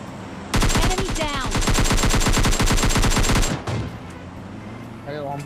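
Loud, rapid automatic gunfire from a PUBG Mobile Lite match, a sustained burst of about three seconds with dense repeating shots, then quieter game ambience with a brief faint shot near the end.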